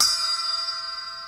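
A cut-down broken cymbal gives a single bright, bell-like strike, then a pure ringing tone that decays evenly and stays close and clear.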